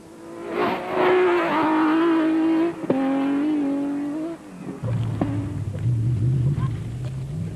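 A race car passes the start-finish arch on the short circuit at the 2005 Lesotho Sun 400. Its loud engine holds a strong droning note, dips briefly, and then trails off into lower rumbling as it goes by.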